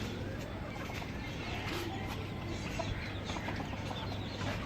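Domestic country hens clucking in a farmyard coop with eggs being brooded, a steady low chorus of clucks and rustling throughout, with no talk.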